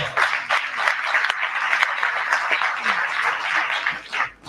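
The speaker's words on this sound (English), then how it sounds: "Let's give her a round of applause." Steady crowd applause at a national labour conference, dense and fairly loud throughout with a slight dip near the end.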